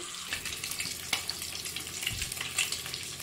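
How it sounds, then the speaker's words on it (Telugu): Eggs fry in hot oil in a pan until golden brown, giving a continuous crackling sizzle with faint stirring clicks underneath and no voices. "ఎగ్స్ బాగా గోల్డెన్ బ్రౌన్ వచ్చే వరకు వేయించుకోవాలండి."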